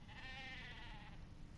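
A single wavering sheep bleat from the Sheepinator weapon in the Ratchet & Clank video game, a quiet nasal quaver lasting about a second over a low background hum.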